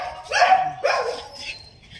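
A dog barks twice nearby, followed by a fainter third yelp as the sound trails off.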